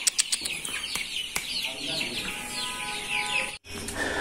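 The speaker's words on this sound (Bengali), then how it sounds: "দেখেন বাইরের মুরগি সব" Chickens and ducks clucking and chirping outside a village house, a scatter of close fowl calls over faint background noise, with brief voices and a few sharp knocks.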